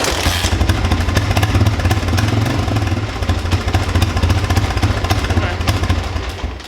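A farm engine, started on choke after backfiring, runs steadily with a loud, rough, chugging clatter, close up and continuous throughout.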